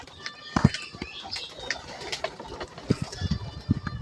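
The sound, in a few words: pigeon cooing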